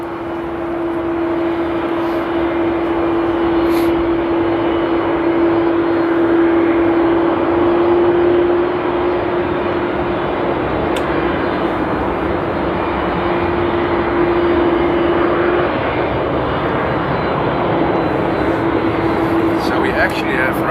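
A KLM airliner taxiing at Amsterdam Airport gives a steady engine drone with a sustained whine, moderately close and continuous throughout, while someone talks over it.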